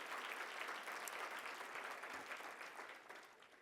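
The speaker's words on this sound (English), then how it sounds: "a round of applause to all that you do" Audience at an international LGBTQ+ leaders conference applauding appointees and elected officials, a full room of steady clapping that tapers off slightly near the end, faint and without talk.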